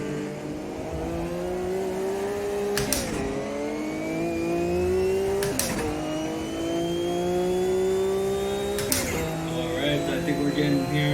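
Porsche 962C race car in the AMS2 sim racing game at Daytona, engine droning and climbing in pitch, then dropping sharply at three upshifts spaced a few seconds apart, loud and continuous, with a voice talking over it.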